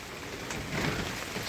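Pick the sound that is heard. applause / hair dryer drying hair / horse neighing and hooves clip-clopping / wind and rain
wind and rain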